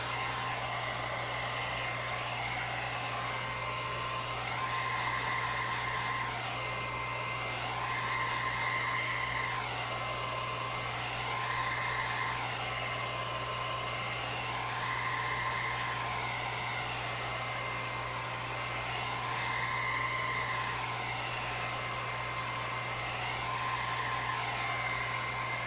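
A hair dryer blows steadily on a wet part of an alien neck sculpture, a loud continuous whoosh with a strong low hum and slight rising and falling swells as it is moved around, with no voices.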